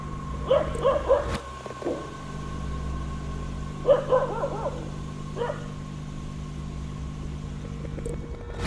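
Several dogs give short clusters of yips and barks in two brief bursts, moderately close, over a steady low hum and engine-like drone.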